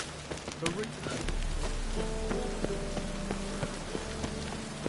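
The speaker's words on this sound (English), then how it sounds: "And it's raining again." Steady rain hisses through a PS4 video game scene, a continuous wash with scattered droplet ticks and soft tonal game sounds layered over it, moderately quiet throughout.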